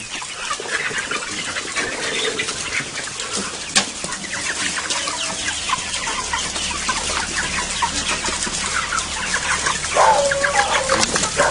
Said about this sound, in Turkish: Kosova köyünde e, tavuk üretim çiftliğindeyiz.